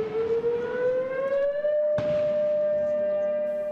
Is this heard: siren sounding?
yes